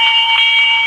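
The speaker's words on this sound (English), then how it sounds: "Never mind the doorbell." An electric doorbell rings with a steady, bright sustained tone lasting under a second, loud and alone, used as a sound effect in an old radio mystery drama.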